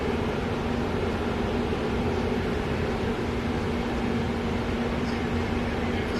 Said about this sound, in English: glad we have a hair dryer now